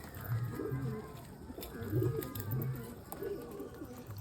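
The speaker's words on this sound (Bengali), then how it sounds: "এগুলো সব ওড়াই লাইনের পায়রা" Flying-breed pigeons coo in soft, repeated low throaty phrases at close range, with faint background noise and no talk over them.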